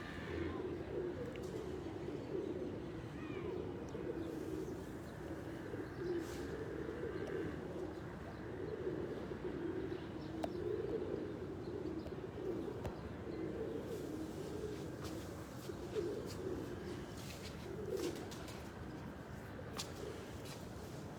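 Pigeons cooing softly at a Lahore pigeon fancier's loft, a low continuous burbling chorus with faint chirps and a few sharp clicks over quiet background hiss.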